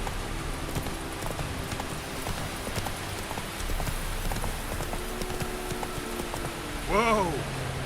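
Roach, a horse in The Witcher 3 video game, clip-clops along in a steady hoofbeat rhythm with light rain in the background, ending in a short neigh.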